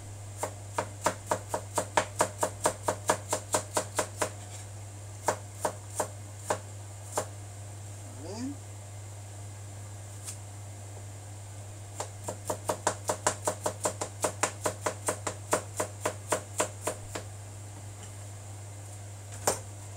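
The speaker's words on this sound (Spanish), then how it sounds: "Y vamos picando la zanahoria." A knife chopping carrot on a board, sharp close knocks in quick rhythmic bursts separated by short pauses, under a constant low hum with no talking.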